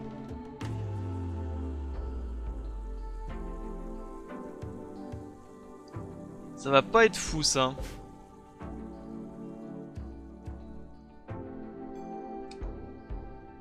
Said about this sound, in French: Et une pluie toxique.